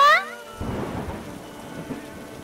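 Steady heavy rain pours down after a brief tonal sound at the start, with a low rumble of thunder in the background.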